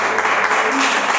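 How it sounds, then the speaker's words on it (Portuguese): A church congregation claps for Jesus during a sermon, a brief dense burst of many hands applauding together in a room. "bater uma salva de palmas para Jesus"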